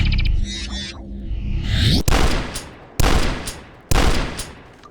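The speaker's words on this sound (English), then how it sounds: "You get a good rhythm firing these two shotguns, keeping multiple demons at bay." Twin shotguns fire at demons in a first-person shooter video game: three loud, punchy blasts about a second apart, each with a short decaying tail. Quieter game effects come before them.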